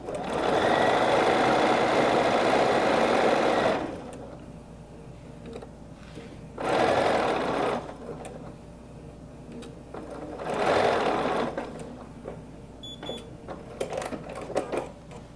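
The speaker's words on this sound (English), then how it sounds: "I am going to sew a 1/4 inch seam" Domestic sewing machine stitching a quarter-inch seam on wonky log cabin quilt pieces, running in three close, loud bursts of steady whirring with quiet handling pauses between them.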